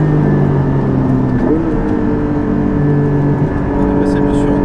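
A Porsche 718 GT4 with an Akrapovic exhaust and manual gearbox drives on the Spa-Francorchamps circuit, its engine note loud and sustained from inside the car, shifting pitch as it changes gear, with no talk.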